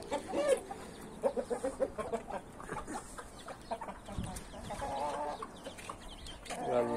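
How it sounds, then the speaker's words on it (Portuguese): Fighting-breed chickens cluck and squawk at close range on a small farm, with a rooster among them, irregular bursts of calls continuing throughout at moderate loudness. "O galinho tá chocando."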